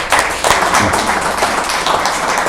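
Loud, dense clapping from an audience at a graduation ceremony, a continuous close wash of many hands with a few sharper individual claps, and no talking over it.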